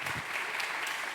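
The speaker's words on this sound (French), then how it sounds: "et qu'on peut déjà applaudir, s'il vous plaît." Audience applause, a dense wash of many hands clapping at once, steady and fairly loud throughout the brief moment.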